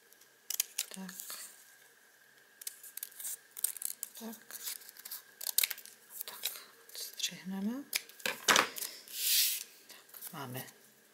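Scissors snip and cut orange paper at close range for a bird craft, with irregular crisp snips, rustling and paper crinkling; a person speaks in between.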